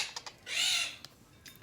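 A Quaker parrot being hand fed gives a loud, harsh chirping squawk lasting about a third of a second, set among a few fainter short chirps before and after it.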